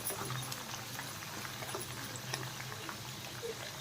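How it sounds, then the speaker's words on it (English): Green chili sizzles and cooks in hot oil in a pan, making a steady, close, low frying hiss with scattered small pops and crackles and no talk. "Let the chili cook little bit so the spice will come inside the oil"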